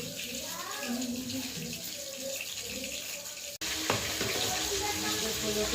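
Water runs steadily from a tap in a continuous rushing stream, with a voice talking over the first half and a brief clunk midway.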